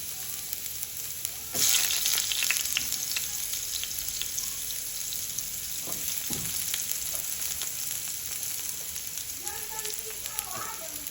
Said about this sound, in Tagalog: So stir fry natin yung carrots.